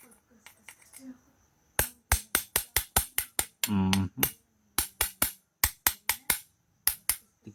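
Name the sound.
tapping with a hammer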